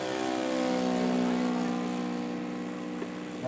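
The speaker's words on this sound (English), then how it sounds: "It's a Proctor kit, Fokker E3 Eindecker with a Laser V200 for power." A Proctor kit scale model Fokker E3 Eindecker powered by a Laser V200 engine drones steadily overhead at a flying show, its propeller engine note loud and continuous, fading slightly as it passes.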